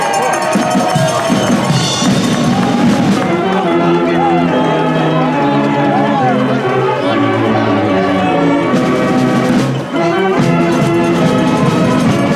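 Crowd at a North Haven High School football game applauds the class of 2020 football seniors, a steady, loud wash of clapping and cheering with bell ringing mixed in throughout.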